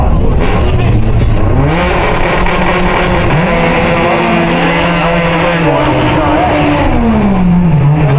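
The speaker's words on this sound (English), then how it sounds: "Top end, quarter mile, 11:30. 121 miles per hour for Patrick Gibbs" Honda cars drag race down a quarter mile at a spring Honda event, loud engines revving through rising and falling gear pulls, with a busy roar of several motors close by.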